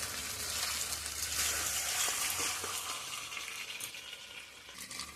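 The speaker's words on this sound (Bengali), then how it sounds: "এই যে, এবার আমি চিকেনের মধ্যে জলটা অ্যাড করে দেবো।" Water is poured into sautéed chicken in a hot pan for a chicken curry, raising a loud, rushing sizzle that holds steady and slowly fades.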